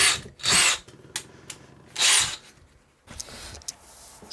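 A power drill bores into a supermoto stunt peg in short loud bursts, three or four whirring runs separated by pauses, close by with no voices.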